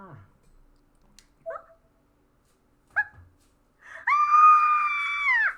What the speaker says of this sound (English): I couldn't help but scream.